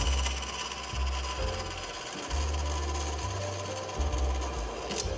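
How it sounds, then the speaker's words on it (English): Close, steady buzzing whine of a bandsaw cutting a notch in a thin wooden popsicle stick, pitch shifting in short segments as the blade loads and unloads. "I used the bandsaw to cut a notch out of the popsicle stick."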